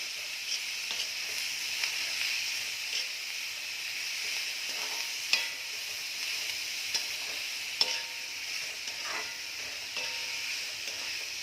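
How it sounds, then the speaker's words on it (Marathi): Bell peppers seasoned with turmeric, red chilli powder and salt are stir-fried in a pan, giving a soft continuous sizzle with occasional light clicks of a spatula against the pan and no talking. "मिरची चांगली परतून घेत आहे"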